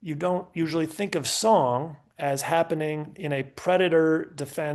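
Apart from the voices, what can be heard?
No distinct noise like a dog, phone or traffic.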